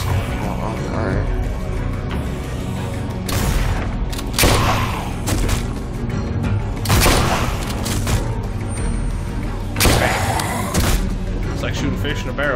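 Gunfire in The Walking Dead: A New Frontier video game, several heavy booming shots spaced a second or two apart over a dense, loud game soundtrack and ambience.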